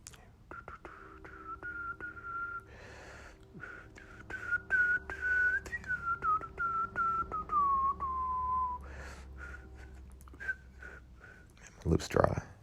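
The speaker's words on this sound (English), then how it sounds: "I could whistle though." A person whistles one long, sustained tune that glides slowly downward in pitch, set against quiet room sounds and soft breathy noises, and it ends with a brief louder burst.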